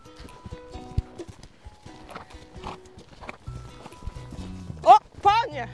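A horse moves after jumping obstacles while a rider in new Eskadron Dynamic gear talks excitedly, with soft, irregular hoof thuds under the speech and a short neigh-like sound near the end.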